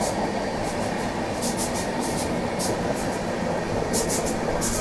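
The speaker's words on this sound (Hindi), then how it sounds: "वो प्रयागराज एक्सप्रेस गई है।" The Prayagraj Express, an Indian passenger train, rumbles past with a steady loud roar of wheels and carriages and intermittent high hissing or squealing bursts, no voices over it.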